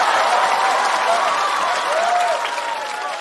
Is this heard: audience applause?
yes